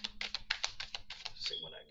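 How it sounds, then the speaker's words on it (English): A quick run of riffling tarot card shuffles, a dozen or so rapid papery flicks in a steady burst, close up. "Shuffle again."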